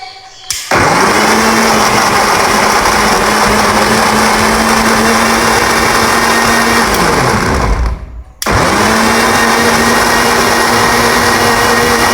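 An electric blender whirs loudly at a steady high pitch while blending a nabiz-style drink, cuts off briefly, then starts again and keeps running at full power.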